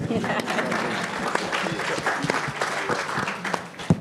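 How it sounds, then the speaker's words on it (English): Audience at a Juneteenth summit panel clapping in a sustained round of applause, dense and moderately close, with voices mixed in throughout. "Well, I'll clap for that."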